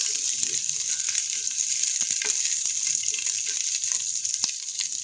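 Onion and garlic fry in a pan with a loud, continuous hiss and crackle, broken by occasional sharper pops and scrapes.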